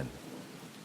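Steady rain and storm noise fill a dark night, a dense wash of falling water with a low rumble at the very start, continuous and moderately loud with no talk.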